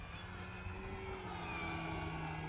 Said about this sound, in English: Nice slow pass again. This is just an awesome airplane.